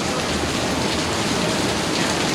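Steady, dense rain falls in Florida at Disney Springs, a constant loud hiss of drops on surfaces with no pauses or voices.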